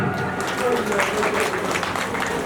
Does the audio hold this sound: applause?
yes